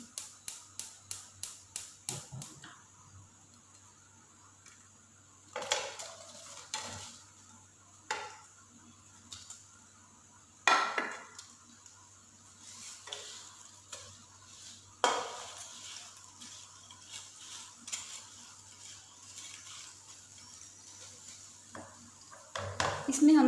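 Previously fried potatoes for a spicy masala aloo fry are tipped into a pan and stirred, with a quick run of clicks at the start, then scattered scrapes and clatters of a spoon against the pan, close and fairly quiet.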